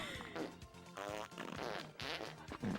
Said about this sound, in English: I forgot Conker's Bad for Day OST is like all farts.